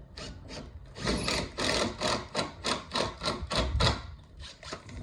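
Power drill driving screws into a bi-folding door frame, a run of about a dozen quick rasping bursts in steady rhythm, close and fairly loud, with no talking.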